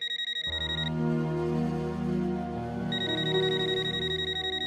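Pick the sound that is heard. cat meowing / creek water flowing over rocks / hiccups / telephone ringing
telephone ringing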